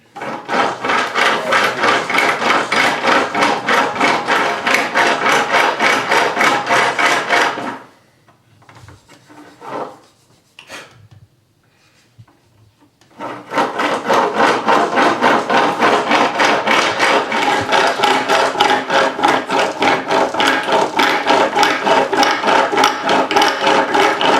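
A steady, rapid rasping grind of a medieval-style hand drill boring into Baltic amber, close and loud, pausing briefly in the middle before resuming.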